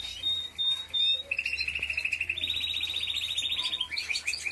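Pet birds chirp indoors in a run of bright, rapid high-pitched trills and repeated tweets, fairly close, over a low steady hum.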